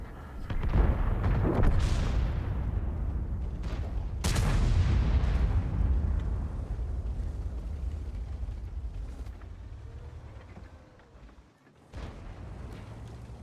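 Tank cannon fire in World of Tanks, with the Object 279 heavy tank on the battlefield: several loud booming shots with long rumbling tails, a big blast near the start and another midway, over constant low battle noise.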